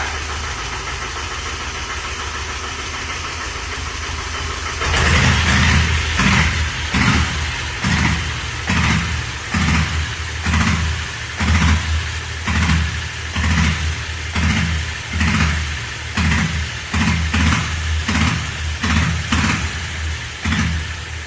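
After a quiet start, a motorcycle engine fires on a kick start and settles into a loud, close, lumpy idle with a steady pulsing thump that carries on to the end.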